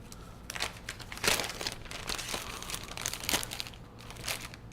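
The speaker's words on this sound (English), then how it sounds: "That is a heavy-duty plastic bag with a zipper enclosure" A heavy-duty Ziploc plastic zipper bag handled close by in a kitchen, giving irregular bursts of crinkling and crackling plastic over several seconds, with no voices.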